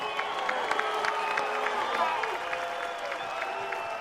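A crowd applauding at a boxing press conference for Canelo vs. Crawford, with dense steady clapping and faint cheering filling the room under a voice.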